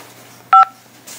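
A single telephone keypad DTMF tone on a Nebraska prison collect-call line, one short steady dual-pitched beep of about a tenth of a second, loud and clean against a quiet line hiss.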